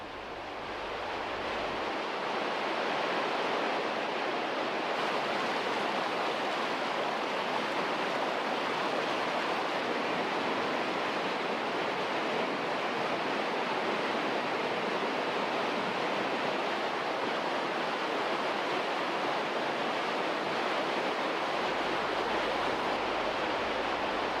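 Underground river water rushing with brute force through a cave, eroding rock; a steady, dense, loud roar of turbulent water fills the space continuously without letup, with no voices.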